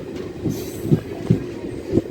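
A DEMU passenger train runs on rails between Telangana and Karnataka near Raichur, giving a steady low rumble with rhythmic wheel thumps on rail joints roughly every half second to second, close and continuous.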